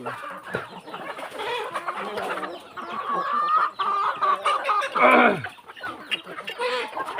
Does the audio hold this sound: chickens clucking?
yes